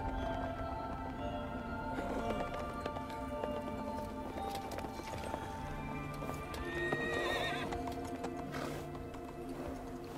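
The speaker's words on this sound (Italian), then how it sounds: "3 cavalli neri, 5 cavalli neri e un cavallo bianco." Horses from the video game Shadow of the Colossus gallop with steady clip-clop hoofbeats, joined by several loud neighs and whinnies over a dense, continuous game soundscape.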